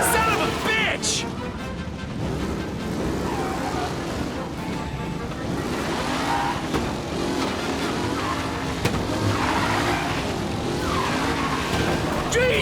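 Race cars in Mafia: Definitive Edition roar continuously in a loud, dense blend of engine drone and tire skids, with game commentary and shouting layered over the racing.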